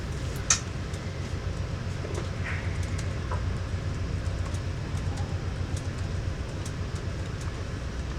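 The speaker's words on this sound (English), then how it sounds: "While our train leaves the station, a GO train enters the station." A VIA Rail passenger train pulls out of Guildwood station near Toronto, heard from on board as a steady low rumble and rolling hum with faint chirps and clicks above it, fairly quiet throughout.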